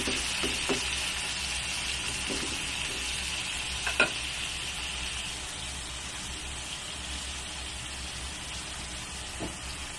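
Chopped tomatoes sizzle steadily in a hot pan after browning, with a constant frying hiss and a few scraping stirs of a utensil, close and alone.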